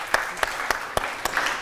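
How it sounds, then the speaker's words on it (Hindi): Claps from a studio audience on a Pakistani morning talk show. Several sharp hand claps land at a fairly even pace, fairly close, over a quiet hum, with no speech. "इनके लिए तो बहुत सारी तालियां बनती हैं।"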